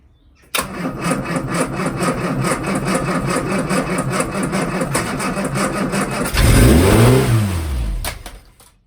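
A Classic Mini, just back together after a head gasket repair, cranks and catches, idles roughly with a steady pulsing note, then revs up and back down in a loud, close sweep before dropping off.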